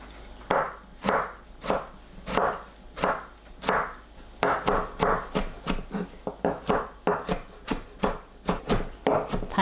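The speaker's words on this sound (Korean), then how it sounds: "토마토는 심지를 제거하고 잘게 썰어서 준비합니다" Knife chopping cored tomatoes finely on a board, a steady run of crisp, close, evenly spaced cuts that quicken in the second half, with no voices.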